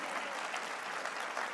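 Audience applause at the CPAC conservative political conference, a dense steady wash of many hands clapping throughout, fairly faint and distant-sounding, with no voices over it.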